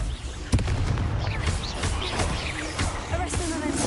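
A Confringo explosion spell in Hogwarts Legacy, heard as a sharp blast followed by a string of crackling impacts and rumbling bursts over several seconds, loud and close amid busy combat noise.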